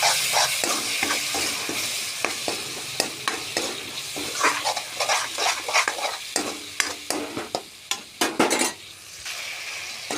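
Tomato paste and masala with a little sugar fry in a pan for paneer masala, stirred slowly with a spoon that scrapes and clinks against the pan over a constant close sizzle, no voices.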